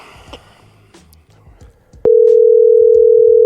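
A steady telephone tone starts abruptly while placing a call and holds loud and unbroken until the end, after a quiet stretch of faint murmuring and soft handling noises.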